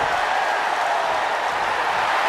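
Steady roar of a video-game arena crowd cheering during a WWE 2K23 iron man wrestling match, loud and continuous with no breaks.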